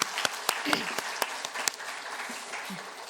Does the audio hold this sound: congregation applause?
yes